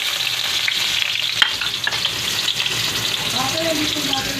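Garlic and onion frying in a pan for pancit, a steady close sizzle with light stirring scrapes and a few clinks, continuous throughout.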